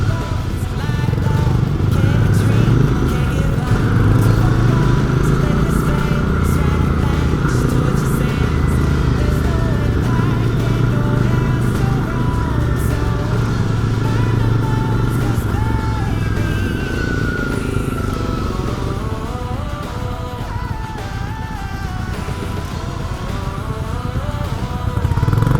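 A Royal Enfield Bear 650 being ridden: its engine drones loud and steady, with rising and falling pitch through gear changes, mixed with wind and road noise and no voices.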